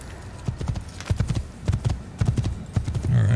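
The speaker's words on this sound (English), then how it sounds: "Come on, big boy, get that horse going." A horse gallops in the video game Assassin's Creed, its hooves clopping in uneven bursts at moderate loudness.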